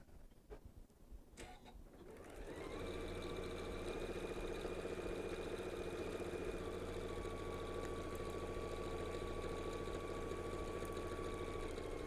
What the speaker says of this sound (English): Now I'm going to sew together the lining.